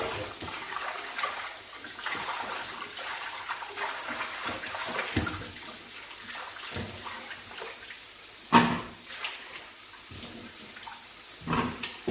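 Vegetables washed under a running tap in a kitchen sink, a soft continuous water flow with occasional splashes and clunks as they are handled, fairly quiet.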